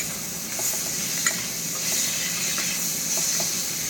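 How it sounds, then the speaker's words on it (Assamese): Tomato frying with onion in a pan, a steady soft sizzle and hiss with faint occasional pops and light stirring, close and even throughout, no voices. "এতিয়া বিলাহীটো আগতে ভাজি ল'ম।"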